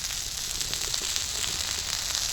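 Brinjal and tomato pieces fry in a pan with a steady, dense sizzle and crackle that runs unbroken throughout, close and even with no talking.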